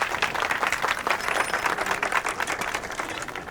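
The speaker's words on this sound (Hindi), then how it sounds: "ताली।" A crowd claps, a dense patter of many hands at a steady level, close and sustained for several seconds with no voices over it.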